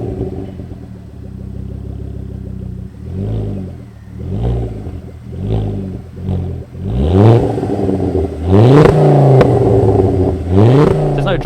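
Mk2 Ford Focus RS with a Scorpion exhaust fired up and revved, several sharp rising and falling blips over a rumbling idle, building louder toward the end, close by with no talk.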